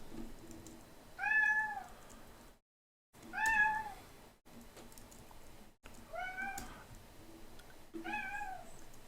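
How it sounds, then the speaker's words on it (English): A demanding house cat meows four times in close range, each a rising-falling cry with brief gaps between, amid faint room noise and occasional keyboard typing. "I have a cat right here who's very demanding"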